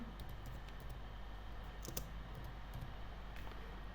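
Keys tapped on a computer keyboard make a short run of light, quick clicks over a low steady hum, faint and close, with no talking.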